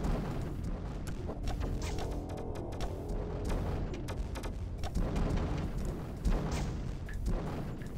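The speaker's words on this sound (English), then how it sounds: "Alright, here we go with our cannon assault." Cannon assault pounding and destroying an enemy temple in the strategy game Netstorm, with continuous loud rumbling blasts and crashing impacts layered densely over eight seconds.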